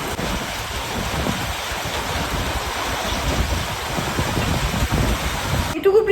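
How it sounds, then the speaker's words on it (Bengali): Heavy rain with large drops pours down outside in strong wind, a dense, steady roar filling the whole stretch without pause. "প্রচন্ড জোরে বৃষ্টি পড়ছে বাইরে,"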